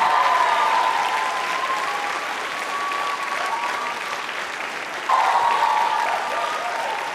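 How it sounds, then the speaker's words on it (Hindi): A large audience at a B.Ed college New Year quiz show gives loud, sustained applause. The clapping is continuous and dense, with a faint tonal hum running beneath it and a brief surge in volume toward the end. "तालियां जोरों से बजाइए अपने लिए।"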